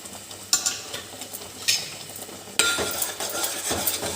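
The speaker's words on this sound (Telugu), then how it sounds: "అల్లం వెల్లుల్లిపాయ పేస్ట్ కూడా కొంచెం వేస్తున్నాను, ఒక చిన్న స్పూన్ వేస్తున్నాను, పచ్చిమిరపకాయలు కూడా వేసేస్తున్నాను" Ginger garlic paste and green chillies hit hot oil in a pan for egg curry, bursting into a loud sizzle with spoon scraping and clinking against the pan as it is stirred.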